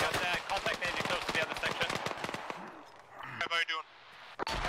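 Rapid video-game gunfire rattles in from behind, dense bursts of shots crowding the first half and thinning to scattered cracks, with a voice talking over the shooting.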